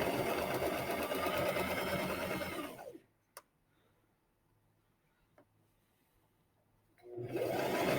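Sewing machine stitching fabric triangles together for half-square-triangle quilt blocks, a loud steady mechanical whir that stops for about four quiet seconds with a couple of faint clicks, then starts up again.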